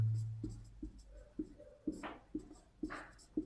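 A pen scratches across paper in a steady series of short strokes, about seven or eight quiet, evenly spaced scrapes heard close up during a math lesson, with no talking.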